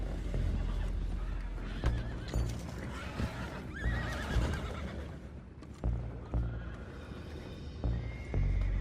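Horses neigh and whinny repeatedly amid a busy, clattering scene in the video game Red Dead Redemption 2, with hooves clopping and commotion layered throughout.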